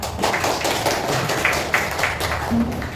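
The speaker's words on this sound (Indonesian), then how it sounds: "Oke, tepuk tangan." A classroom group claps hands in applause, producing a moderately loud run of irregular, overlapping claps and taps that lasts the whole moment.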